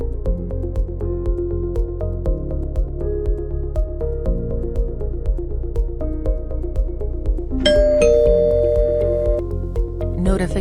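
A Hi-Focus wireless video doorbell plays its chime, a repeating electronic melody of clear tonal notes with a steady pulse, loud and close, ending on a brighter flourish.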